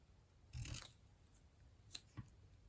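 Scissors trimming craft material in a quiet room: a few soft, brief snips and rasps, close and faint, with no talking.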